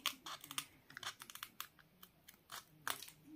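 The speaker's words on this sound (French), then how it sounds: "il fait un bruit ce papier" Quiet, close crinkling and rustling of paper in short irregular bursts, with brief pauses between the crackles.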